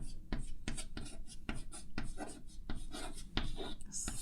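Marker or chalk strokes on a board during a Class 10 science lesson on the concave mirror formula: quick, evenly spaced scratchy taps at close range, with a teacher's voice faintly underneath.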